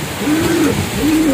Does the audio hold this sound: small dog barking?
no